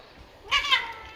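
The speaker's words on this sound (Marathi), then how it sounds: "ती मांजर आहे." A single short, faint cat meow from a pet cat at home, rising then falling, heard near over a quiet background.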